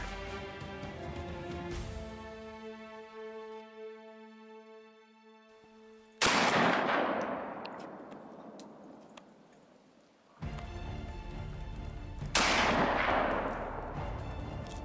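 A single loud, sharp gunshot rings out while hunting a whitetail buck in the woods, then a long rolling echo that fades and swells again across the open terrain.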